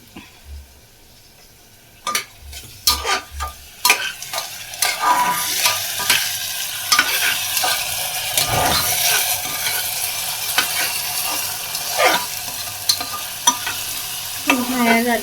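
Ginger garlic paste frying in a pan for mutton curry, stirred with a utensil: steady close sizzle with repeated scraping and clinking strokes against the pan, no talking.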